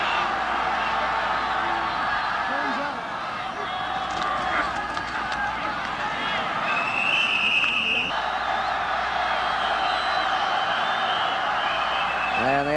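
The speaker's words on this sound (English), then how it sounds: "they asked for the crowd to quiet down" Stadium crowd at the 1971 Rose Bowl football game between Stanford and Ohio State, a steady loud roar of many voices throughout, with whistle-like tones and a commentator talking over it.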